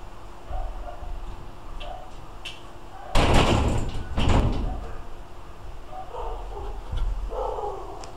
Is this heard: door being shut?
yes